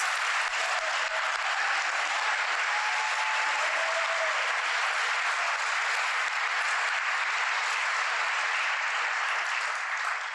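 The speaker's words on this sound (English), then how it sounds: "Senator Kriseman, would you please stand again so we can give you a round of applause?" A crowd applauds Senator Kriseman at a State of the City address in St. Petersburg, a long, steady round of clapping that holds loud and unbroken, with faint voices barely showing beneath it.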